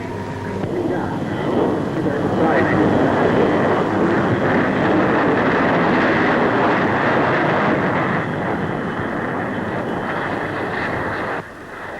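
The de Havilland 110 jet flies at the Farnborough air show with a loud, steady, broadband roar that holds almost unbroken for the whole stretch.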